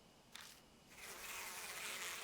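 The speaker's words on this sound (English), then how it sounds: "The bees are gathering on it." Bees in the horror video game Deathmark buzz around a dripping thick liquid, a faint, soft hum that swells and grows steadier toward the end, with a brief click early on.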